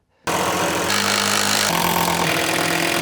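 A power drill drives cabinet screws into a workshop cabinet, its loud steady motor whine running continuously and shifting pitch as the screw seats, close by with no talk.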